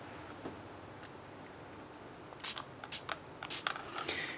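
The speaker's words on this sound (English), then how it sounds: "I'm going to spray some of this." Several quick, hissing spritzes from a spray bottle onto eyeshadow during makeup application, faint and close, in a short irregular series after a quiet stretch.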